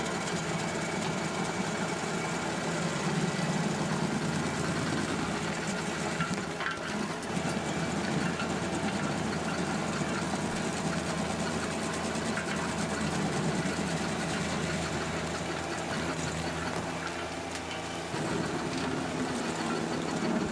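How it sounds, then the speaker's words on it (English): A tractor-driven stump grinder runs with a steady, dense mechanical roar at an even pitch, a constant grinding drone and no pauses or talk. "This allows the grinder to work at its own pace, really, grinding the stump as fast as it can."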